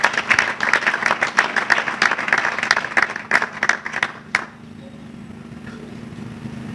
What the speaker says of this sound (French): S'il vous plaît, vous pouvez les applaudir encore.